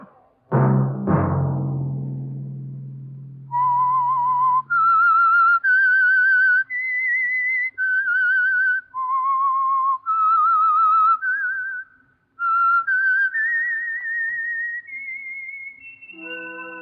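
Whistled theme tune from The Whistler radio program, a solo melodic whistle of sustained and gliding notes heard alone after a short low musical sting, clear and close.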